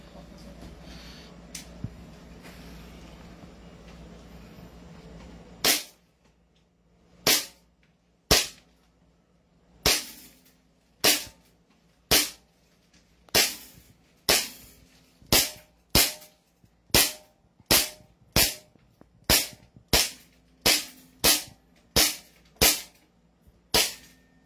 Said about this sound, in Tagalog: Sige sir, firing.